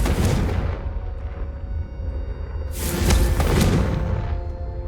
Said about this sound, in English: a Confringo cast travels a bit farther than that of a spell like Incendio